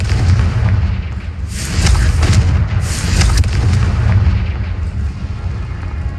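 A deep, booming blast from the Confringo fire spell in the Hogwarts Legacy video game, a loud continuous rumble with two brighter bursts close together, heard alone without talk.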